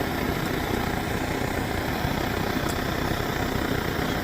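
A Primus torch burns with a steady, even roar at close range, a constant broadband hiss without pauses or talk.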